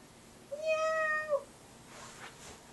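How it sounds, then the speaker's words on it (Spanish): A cat gives one clear, drawn-out meow, close and moderately loud, followed by quiet room noise. "El gato."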